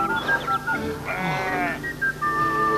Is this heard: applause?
no